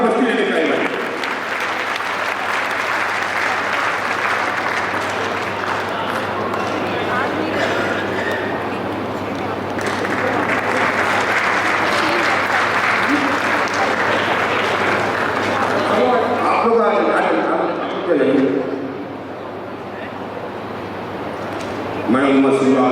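Loud, sustained applause fills a hall at a district oath ceremony for newly elected officials, welcoming the vice-president, steady for most of the stretch and thinning briefly near the end with some crowd murmur underneath.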